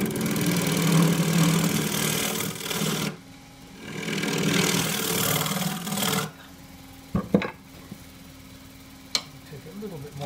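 A wood lathe spins a box elder bowl while a bowl scraper rasps against the wood, giving a steady whirring drone that cuts out between passes, followed by a few sharp knocks.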